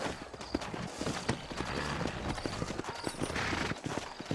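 In the video game Red Dead Redemption, horses trot across open country, their hooves giving a steady close clip-clop rhythm over outdoor ambience, with a few brief louder knocks.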